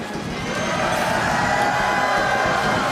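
A large live crowd at a Minneapolis speedrun charity event cheers and shouts loudly and steadily, with whoops rising through the full roar.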